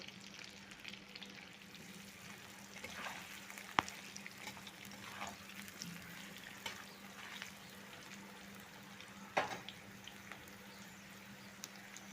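Taro and potato frying with turmeric powder in a pan, giving a quiet steady sizzle with a couple of sharp utensil taps, no voices.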